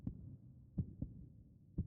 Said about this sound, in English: A faint knocking sound echoes from afar.